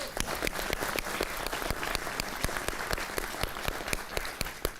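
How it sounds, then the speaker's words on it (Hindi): Audience at a Hindi poetry gathering applauding a poet, with distinct sharp individual claps standing out in a quick, uneven rhythm over a softer bed of clapping, moderately quiet overall. "एक बार तालियां बजा दीजिए"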